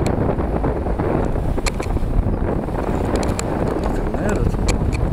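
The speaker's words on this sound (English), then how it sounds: "the wind had swung round 180 degrees and was now the prevailing offshore breeze" Strong wind roars over the bay during a paragliding flight, a loud, constant buffeting rush with gusty fluctuations, while someone speaks briefly under it.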